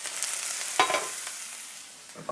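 Potatoes for crispy aloo bhujia tossed in a hot pan, a short scrape-and-rattle burst over a steady sizzle, close and fairly loud.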